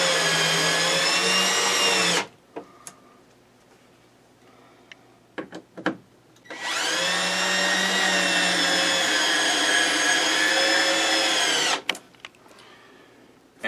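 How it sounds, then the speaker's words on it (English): A power drill whines loudly in two long bursts driving screws, separated by quiet gaps with a few clicks and knocks. "it's just as simple as drilling those screws in"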